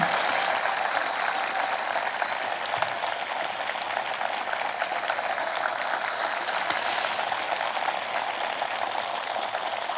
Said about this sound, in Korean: 여러분 올해와 같은 박수 보내주십시오